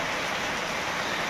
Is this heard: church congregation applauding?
no